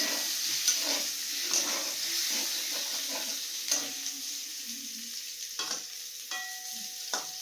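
Potatoes fry in a pan while greens are cooked, a soft steady sizzle with occasional stirring scrapes and clicks, fairly close and without speech.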